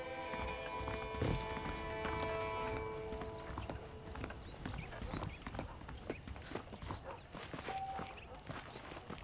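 Hooves of saddled horses clip-clop at a walking pace in the video game Red Dead Redemption, fairly faint under a busy layer of ambient game sound.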